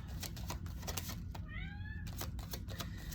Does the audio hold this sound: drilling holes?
no